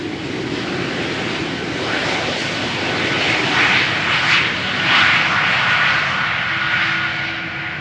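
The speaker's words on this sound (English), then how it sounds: "Here he goes. E2 Embraer 195 KLM." KLM Embraer 195 E2 jet taking off from runway 36L at Amsterdam Schiphol, a steady broad engine roar that swells and fades a little over several seconds, heard from a moderate distance with no talk.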